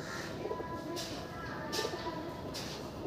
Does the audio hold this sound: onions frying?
no